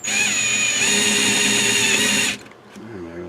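A power drill drills out a rivet on a Radio Shack regulated power supply with a steady, high whine that stops abruptly after about two seconds, followed by quiet handling sounds and a brief low voice nearby.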